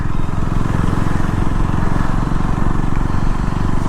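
A motorcycle engine drones loudly and steadily on a tree-lined road where many riders pass, a close, rumbling pulsing hum filling the whole moment without talk.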